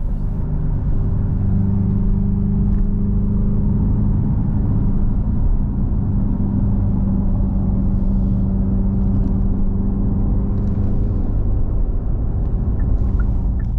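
A Hyundai Ioniq 5 N electric performance car drives along, giving a steady, loud low rumble and road roar with a faint motor whir, continuous and close throughout.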